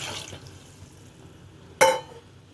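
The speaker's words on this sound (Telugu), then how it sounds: "ఇప్పుడు తగినన్ని వాటర్ అయితే వేసుకోవాలి." Water is poured into a pot of spinach dal with tamarind: a quiet stretch, then one short, sharp splash near the end that fades quickly.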